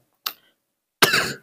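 A single short cough, close and fairly loud, preceded by a brief faint click, in an otherwise quiet room.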